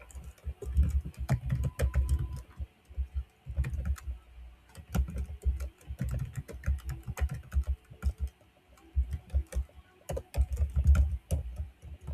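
Typing on a computer keyboard, uneven runs of close clicky keystrokes with short pauses between bursts.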